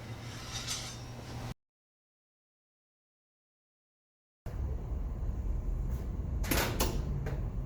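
An asphalt ignition furnace door being shut in a lab, a brief clunk and rattle of the door closing after a silent gap, with a few sharp clinks near the end.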